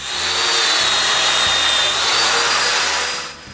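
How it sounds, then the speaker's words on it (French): A domino joiner cuts 8 mm mortises into wood with a loud, steady motor whine and rough grinding. The sound runs close and continuous for several seconds, then tapers off at the end. "je perce des mortaises de 8 mm."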